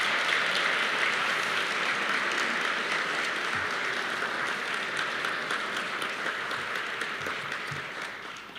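A large audience at a university neuroscience spring commencement applauds steadily, a dense sustained clapping that holds for several seconds and slowly fades toward the end.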